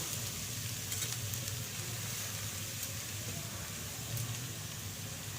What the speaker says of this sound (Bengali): গরম হয়ে গেলে তার মধ্যে আগে থেকে গ্রেট করা রাখা গাজরগুলো দিয়ে দেব